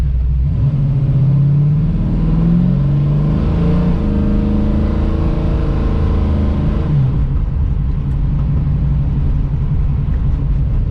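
A 650-horsepower 1971 Chevrolet Camaro split bumper revs hard, its loud, close V8 roar climbing and falling in pitch as the radial tires spin, then settling back to a deep rumble.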